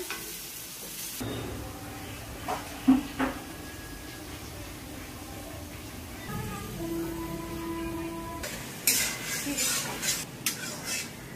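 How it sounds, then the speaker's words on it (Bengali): Onions fry in oil in a pan for pulao, a continuous sizzle with scraping stirring strokes and occasional utensil knocks and clatter, plus faint background voices and household noises. "পোলাও পেঁয়াজ ভাজতেছি"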